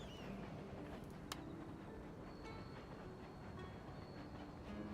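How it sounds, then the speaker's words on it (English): A steam-era train in the strategy game Shogun 2: Fall of the Samurai rumbles steadily along a railroad. The clattering is faint and continuous, with a single brief metallic tick partway through. "Wow, that train's going to make it."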